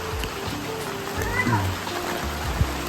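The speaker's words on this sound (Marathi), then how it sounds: "हा पाऊस पडतोय" Rain falls steadily at a village house, a soft, even hiss of drops with a low murmur and a few dull knocks underneath.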